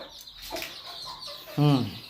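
A hen with newly hatched chicks gives a short, close, throaty cluck amid soft faint chirps and rustling.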